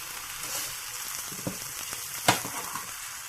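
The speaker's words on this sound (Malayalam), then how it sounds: "ഞാനൊന്നും കൂടി ഇത് വഴറ്റുകയാണ് കേട്ടോ" Vegetables sautéing in a pan for a taro sambar, a soft steady sizzle broken by a few stirring scrapes and one sharper clatter near the end.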